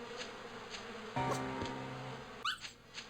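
Bees swarm and buzz in The Dog Island video game, their brief whining hum rising over a dog's whimpers and short game sound effects, moderately loud and close with no talking.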